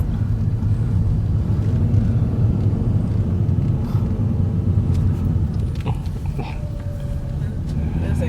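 A car climbing a mountain road in remote country, its engine and tyres giving a steady, loud low rumble from inside the cabin, with a few faint clicks and rattles.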